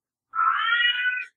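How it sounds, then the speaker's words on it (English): A single drawn-out cat meow, used as a sound effect, rising and wavering for about a second. It is clear and close, with no other sound around it. "That's the cue for the cat noise."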